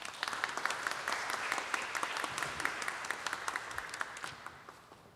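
An audience at a university vision ceremony applauds steadily, a dense wash of many hands clapping at moderate distance, even in level from start to finish with no talk over it.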